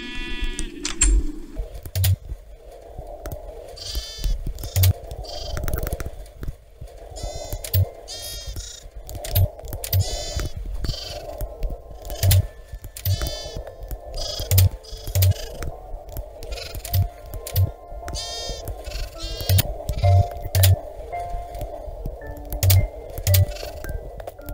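Sheep in the Minecraft video game bleat again and again, with repeated wavering cries. Small clicks of keyboard typing tick underneath at a steady pace, and no one speaks.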